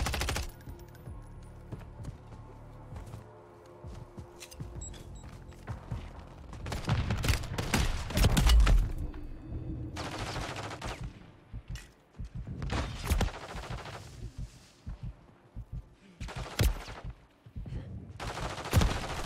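Rapid bursts of gunfire in a Warzone 3 match, loud automatic volleys coming in clusters with short gaps, some faint footsteps and game ambience between them.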